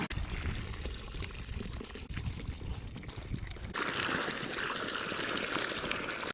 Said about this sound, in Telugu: ఇప్పుడైతే మనం పిండి కలుపుకుందాం